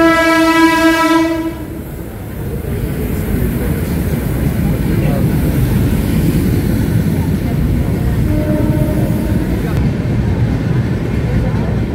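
A passing train on the Godavari Express route sounds one short, loud horn blast at the start, then a steady roar of wheels and carriages continues, with a faint second horn tone later; someone talks briefly in the background.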